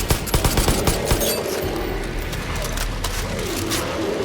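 Rapid bursts of gunfire in the shooter Far Cry New Dawn, a quick run of sharp shots at the start fading into rumbling ambience, fairly close.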